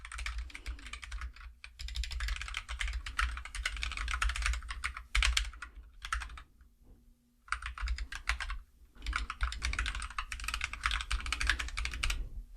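Steady keyboard typing while code is written for a Supabase iOS app in Swift, dense clatter of keystrokes running almost continuously with a couple of short pauses, close and alone without speech.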